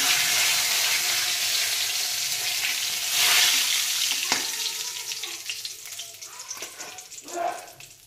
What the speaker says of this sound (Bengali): এই যে তার জন্য দিয়ে দিচ্ছি গোটা জিরে ফোড়ন, আর দিয়ে দিচ্ছি তেজপাতা